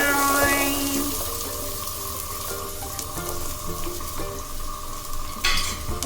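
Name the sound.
onions frying and being stirred for paneer butter masala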